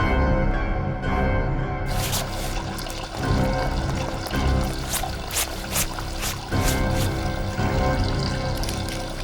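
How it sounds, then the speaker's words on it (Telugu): Water splashes and pours steadily while clothes are washed, loud and close, with repeated sloshing bursts over a constant rush of liquid. "బట్టలు ఉతుకుతున్నానని తెలియట్లేదా? నీళ్లు వేస్ట్ చేస్తున్నావు."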